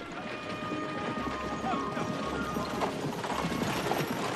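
Horses' hooves clip-clop steadily on a trail as six riders travel by horseback, a continuous rhythmic patter set against a busy, noisy outdoor background.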